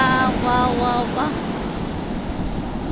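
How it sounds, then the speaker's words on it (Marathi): Ocean surf at Devgad beach, a broad steady wash of waves and wind noise, with voices talking over it at the start before the surf carries on alone. "देवगड बीच"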